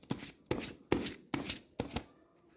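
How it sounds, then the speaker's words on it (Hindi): Tarot cards shuffled by hand in five quick, evenly spaced riffles, each a soft papery flutter, close and fairly quiet. "One more shuffle."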